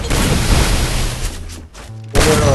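Loud, dense gunfire from the Free Fire battle game, booming shots packed together with a short drop to near silence before another sharp blast.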